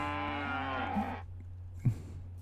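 A Minecraft cow moos in a drawn-out low call that lasts over a second, then falls silent, followed by a short soft thump and a quieter blip.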